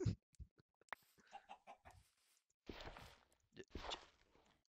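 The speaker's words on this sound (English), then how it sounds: "Chickens!" Minecraft chickens cluck in short bursts alongside soft footsteps and small game blips, then two louder clucking flurries toward the end, all without talk.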